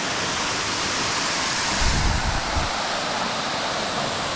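Piney Creek Falls pouring as a steady, full broadband roar of falling water, close and constant, with a brief low rumble swelling near the middle; no voices.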